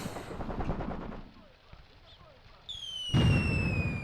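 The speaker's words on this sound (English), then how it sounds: "So the enemy is now bombarding our position. With the mortar fire we've got over here" Mortar and artillery fire bombarding a position in the war game Graviteam Tactics: Mius Front, muffled booming and crackling bursts with a rising whistling tone, a lull in the middle, then a heavy blast.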